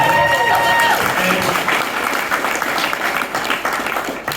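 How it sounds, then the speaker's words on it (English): Supporters at a campaign launch applaud for Scott, loud close clapping and crowd noise lasting several seconds, with a voice tone briefly over the start. "round of applause for Scott."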